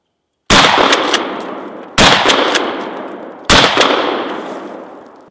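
A 12 gauge shotgun fires three trap loads outdoors, three loud, sharp blasts spaced about 1.5 seconds apart, each followed by a long decaying echo.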